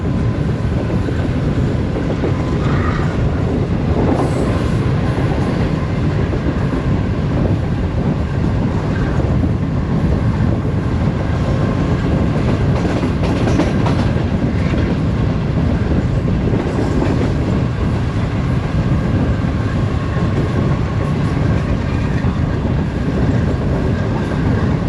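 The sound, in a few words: train passing through Jahaniya railway station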